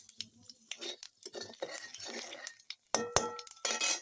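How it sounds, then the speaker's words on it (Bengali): Panch phoron spices sizzle softly in hot oil in a pan while a utensil stirs and clinks against the metal in short, irregular scrapes and taps, fairly quiet and close. "একটু নেড়ে দিচ্ছি"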